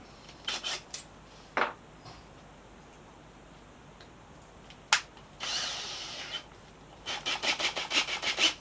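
Short bursts of power drilling through a thin motorcycle mudguard on a 2010 Triumph Street Triple R, with brief pauses between, ending in a longer stretch of rapid grinding.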